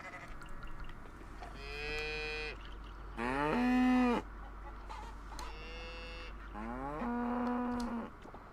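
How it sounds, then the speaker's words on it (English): Cows in the farming game Coral Island let out four drawn-out, loud moos one after another with short pauses between, no talking. "I think the mooing is kind of funny."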